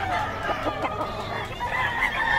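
A gamecock stag crows at a bird market, a loud close drawn-out call over a noisy crowd murmur.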